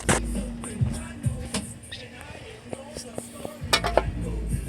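Metal clinks and light scraping as a gasket is fitted onto a Toyota Sienna transmission oil pan in a garage, close and intermittent, with someone talking over the handling.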